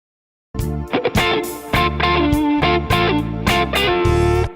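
Electric guitar played through compression and reverb. Sustained, distorted notes and bends ring out loudly and alone after a moment of silence.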